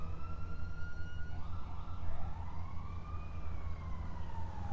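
An ambulance siren in a GTA video game wails, sweeping up and down over a steady low engine rumble, sounding fairly close and continuous throughout.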